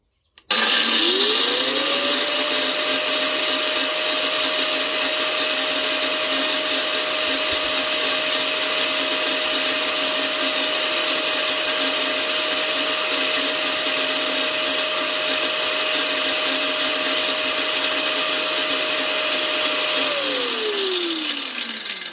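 An angle grinder rated at 12,000 rpm with soft start spins up smoothly over about a second, holds a steady high whine for roughly twenty seconds with no talk, then winds down gradually without a brake.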